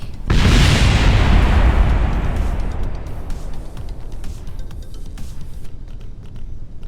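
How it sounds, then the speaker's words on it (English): A loud booming explosion erupts after a spacecraft crash landing in the Kerbal Space Program video game, a deep roaring blast that slowly fades into a long rumbling tail with scattered crackles. "Oh no! Explosions!"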